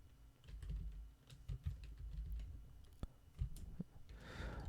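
Quick clicky keystrokes on a computer keyboard while entering an approval table in Excel, including an Alt+Enter combination, tapping in an irregular burst close by with a short rustle near the end and no speech.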